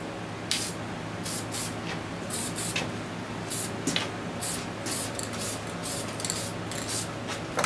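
Light coats of spray paint going onto an old trailer, a series of short hissing bursts repeating close by at an uneven pace with brief pauses between passes, no talking.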